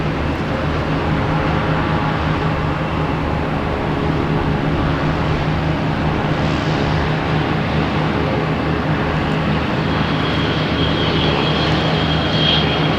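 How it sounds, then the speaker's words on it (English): Steady, broad engine roar from an American Airlines Embraer E175 jet holding on runway 4 right at Boston Logan, a constant loud rumble lasting throughout with a slight rise in a high whine toward the end. "We have American Airlines lined up on 4 right. It's going to be heading to JFK in E175."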